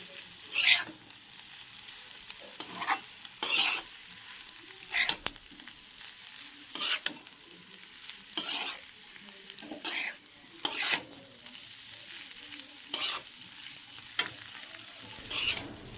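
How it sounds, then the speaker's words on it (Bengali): Noodles being stir-fried and tossed with vegetables, meat and fried egg in a pan over a gas stove, with a steady sizzle broken by sharp, repeated scraping stirs of a utensil against the pan at irregular intervals. "নুডলসটা এখন সবজির সঙ্গে খুব ভালোভাবে আমি মিশিয়ে নেব"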